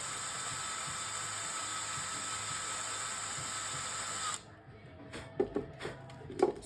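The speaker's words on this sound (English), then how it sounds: "And I just drilled just far enough" A drill bores into a metal plate with a steady high whine for about four seconds, then stops, followed by a few faint scattered clicks and knocks.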